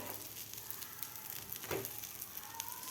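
An egg bread omelette fries on its underside in a pan with a soft, steady sizzle and small crackles throughout, fairly quiet and close, with no talking.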